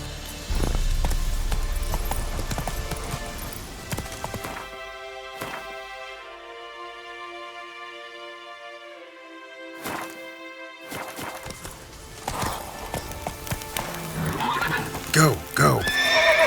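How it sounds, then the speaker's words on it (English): A horse gallops and whinnies in the Witcher 3 video game, with hoofbeats and a long neigh over game music. A crash comes partway through, and there is a bit of in-game voice. "Run, Roach"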